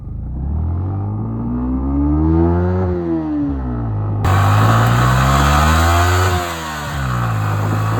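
Yamaha MT15 motorcycle on a morning off-road ride, its engine revving up and down in repeated rising and falling sweeps, loud and close, with a burst of harsher wind-buffeted roar midway and no voices.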